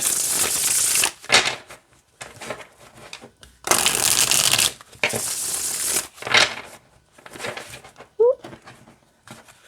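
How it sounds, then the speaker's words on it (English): Bursts of tarot cards being riffled and shuffled, several quick ruffling passes with short pauses between, up close and fairly loud. "and it shuffles great this way too."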